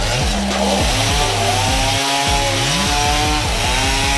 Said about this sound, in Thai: เดี๋ยวเราจะเลื่อยมาให้ดูนะครับ ว่าคมจริงหรือเปล่านะครับ